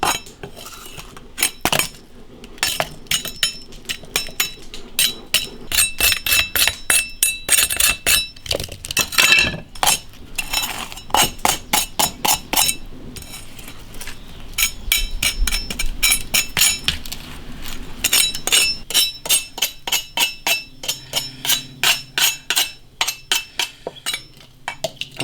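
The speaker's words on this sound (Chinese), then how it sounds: "煮干净之后，把它捶碎。" Boiled clam shells being pounded to pieces, a long run of sharp, brittle clinking strikes, close and fairly loud, that speed up into fast regular bursts toward the end, with no one talking.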